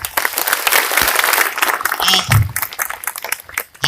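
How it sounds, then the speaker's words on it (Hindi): A crowd at an inter-state representative assembly on the Sarna religion code demand breaks into sustained, dense clapping, loud and steady for several seconds, with voices mixed in and one low thump near the middle. "एक बार मुझे ताली बजा के समर्थन कीजिए"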